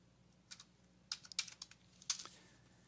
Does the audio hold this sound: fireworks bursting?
no